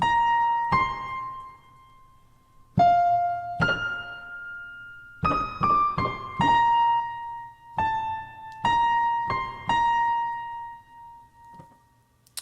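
Solo piano plays a slow melody of "O Holy Night" in single notes and chords, ringing out clearly in the upper register with sustained decay between phrases.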